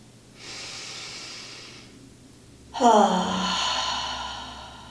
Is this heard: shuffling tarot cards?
no